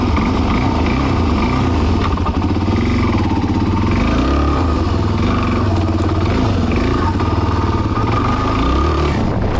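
A Suzuki DRZ400S dual sport motorcycle engine drones steadily at close range, a rough continuous rumble with slight shifts in pitch as it rides along.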